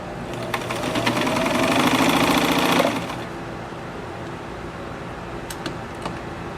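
A vintage Coronado sewing machine stitches for about three seconds, a close, rapid mechanical whir that then stops, leaving quiet room tone with a few faint clicks.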